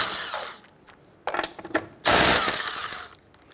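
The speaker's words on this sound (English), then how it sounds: "Using your 19mm socket, loosen and remove your lug nuts." Power tool or socket wrench loosening and removing 19mm lug nuts from the rear wheel of a 1999-2004 Jeep Grand Cherokee, heard in short whirring bursts with pauses, then a longer loud run close by.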